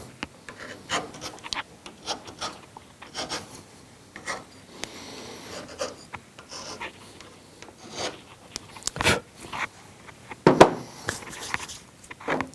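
Hand filing a roughly 1 mm bevel around the center conductor of 5/8-inch Heliax coaxial cable, close and moderately quiet, with irregular rasping strokes and a few sharper scrapes.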